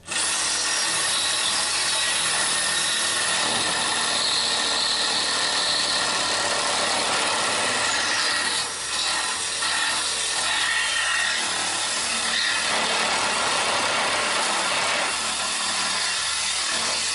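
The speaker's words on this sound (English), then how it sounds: "Cut the ends of the ramp." A power tool cuts steadily through the ends of a boat trailer's walking-platform ramp, giving a loud, continuous high-pitched whine and grind that runs unbroken for about seventeen seconds.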